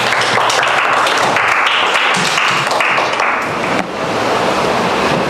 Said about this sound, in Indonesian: tepuk tangan dulu teman